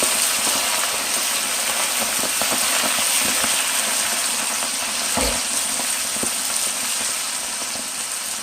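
Naked chicken wings coated only in spices and hot sauce fry in hot grease in a pan, giving a loud, steady, continuous sizzle with a brief knock partway through; no one speaks.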